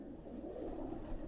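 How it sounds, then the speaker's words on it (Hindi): Pigeons kept for flying coo softly and steadily at a rooftop loft, a low continuous murmur of several birds under a faint background hiss. "आप ये जो कबूतर उड़ा रहे हैं"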